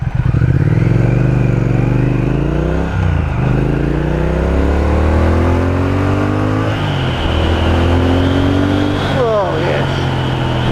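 A Triumph Speed Twin 1200 motorcycle accelerates hard and close, its engine note climbing through the revs with short drops at gear changes, loud and continuous, while voices speak over it.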